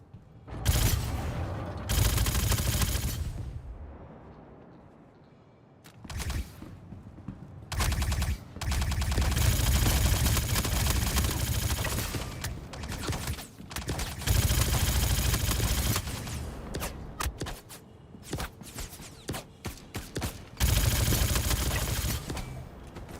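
Gunfire from a video game rings out in repeated loud, dense bursts of machine-gun fire with short pauses between volleys, and occasional single shots fill the gaps.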